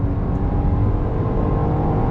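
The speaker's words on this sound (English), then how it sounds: "there is a little bit more engine noise from the V6 than you're gonna find with the V8" A 2021 Jeep Grand Cherokee L with a V6 engine and an eight-speed automatic accelerates from a stop under throttle. Its steady engine drone and road noise are heard from inside the cabin, with no talk.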